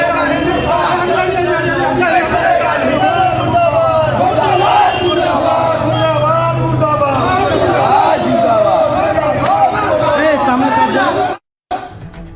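An angry protest crowd in Howrah burning an effigy, a dense mass of raised voices shouting and chanting together, loud and continuous, with a brief dropout near the end.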